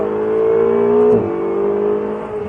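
A Ferrari 488 GTB accelerates out of a corner on a racing circuit: a loud, steady engine howl climbs in pitch, dips briefly at a gear change, then pulls on again, with no voices.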